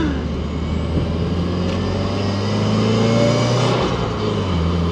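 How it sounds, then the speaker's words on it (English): A manually shifted Subaru WRX engine revving through downshifts, a close, steady mid-pitched drone whose pitch steps up and then down as gears change, with no voices. "just gonna do a third downshift, second."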